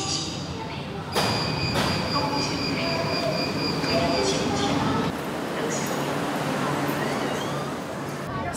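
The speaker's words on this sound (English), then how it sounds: "So right now we are on Metro Line 1, traversing the sea" A Metro Line 1 train rumbles steadily while crossing the sea in China, heard from inside the carriage with a constant loud drone, a thud early on and faint wheel squeal.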